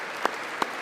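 Applause from the chamber at a State of the Union address, a quiet, distant wash of clapping with two slightly louder claps standing out.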